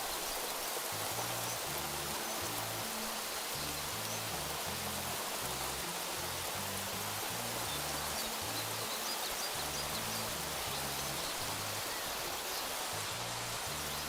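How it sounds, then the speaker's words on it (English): Heavy rain in the video game Craft the World, a steady dense hiss of downpour running unbroken throughout, with a faint low rhythmic pattern underneath and no talk. "I'm just getting the rain music. And that's not music, it's just a sound effect. It's a lot of rain, too."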